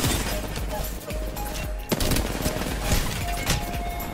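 Dense bursts of automatic gunfire rattle continuously in an Apex Legends match, loud and close with overlapping rapid shots, while people talk excitedly over the shooting.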